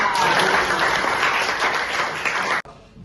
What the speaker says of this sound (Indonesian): Beri tepuk tangan buat Ica